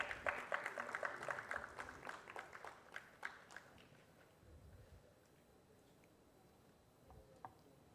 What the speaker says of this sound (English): Please can we have a round of applause for him?